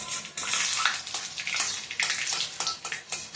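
Whole spices tempering in hot oil for a home-cooked dal, giving a continuous close sizzle with irregular crackles and spits pulsing throughout.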